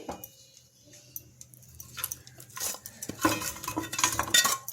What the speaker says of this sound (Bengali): আবার এটা আমি নাড়িয়ে নিলাম